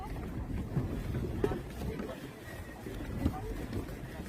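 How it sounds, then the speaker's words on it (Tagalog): A party boat's low, steady rumble off Boracay, with wind buffeting the microphone and faint voices in the background. "Yan, sasakay na kami sa bangka."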